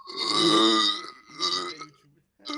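A man lets out a long, drawn-out belch, loud and close, then a second shorter burp after a pause, with a third starting at the end.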